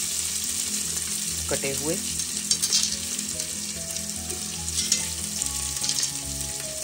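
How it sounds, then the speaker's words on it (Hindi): Chopped onions frying in a pan for chana dal tadka, a continuous close sizzle with occasional stirring clatter; a voice speaks briefly over it. "2 प्याज इसमें डाल रहे हैं"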